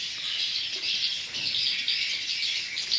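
Recorded swiftlet calls are played back to lure young swiftlets into a swiftlet house, giving a dense, continuous high chirping chatter that stays steady and fairly loud throughout, with no voices.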